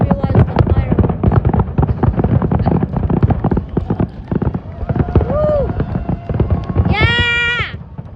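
Fireworks burst at the Traverse City Cherry Festival display, a dense run of crackling pops and booms under loud cheering and excited voices, with a whistling rocket near the end.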